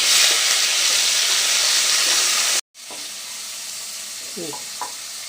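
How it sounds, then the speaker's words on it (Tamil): Shallots, curry leaves, dried chillies and tomato sauté in hot oil with a loud, continuous sizzle and hiss that cuts out briefly, then resumes slightly quieter with light stirring scrapes. "இதை லేசాக நல்லா வதக்கி விட்டுக்கலாம்"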